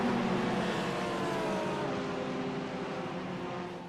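GT3 race cars climbing the hill at the start of a Watkins Glen race, heard as a continuous blended engine roar at a distance that fades slightly toward the end.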